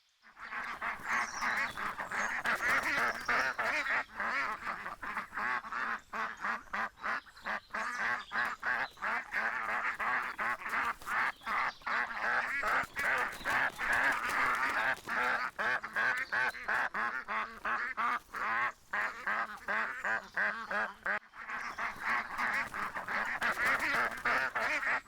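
Ducks quack in a dense, continuous nasal chorus on a farm, many overlapping calls close and loud throughout.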